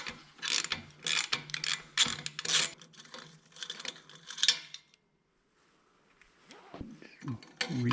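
A 13 mm ratchet wrench clicks in quick bursts of rapid, close metallic ratcheting during an exhaust installation, pausing into near silence before a few more clicks and handling noises.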